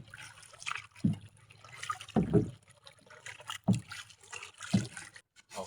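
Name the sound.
water at sea during fishing trip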